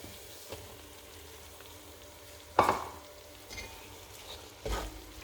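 Masala spices for a tripe curry frying in oil over reduced heat, with a low steady sizzle broken by a few sharp scraping stirs of the pan.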